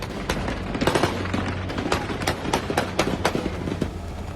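Taliban fighters fire guns into the air in celebration, with dense, overlapping bursts of automatic and single shots crackling loudly and continuously from nearby and farther off.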